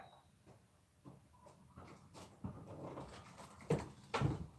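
A dog sounds off faintly in the distance outdoors, a few soft yips and whimpering barks spread unevenly over several seconds against low background noise.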